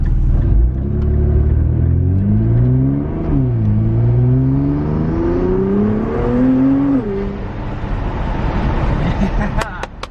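A Nissan GT-R fitted with a cold air intake revs loudly and close by, the engine pitch climbing and falling in repeated sweeps before settling into a steady rumbling idle.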